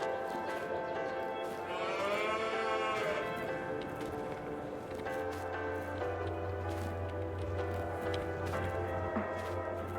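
Cows lowing in a barn in a Polish farm sim, one long drawn-out moo rising and falling near the start, then a deep sustained bovine drone from midway, all close and fairly loud over a low ambient bed.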